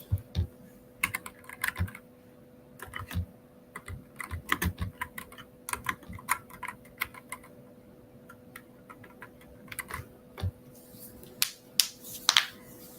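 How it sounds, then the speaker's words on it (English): Typing on a computer keyboard, close, irregular bursts of sharp key clicks and clacks with short pauses between runs, quiet room with a faint steady hum, no talk. "Keyboard. Clickety click click."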